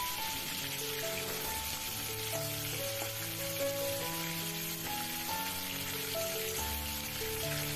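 Prawns fry in a pan with a steady, close crackling sizzle of hot oil, continuous and even throughout while background music plays and no one speaks.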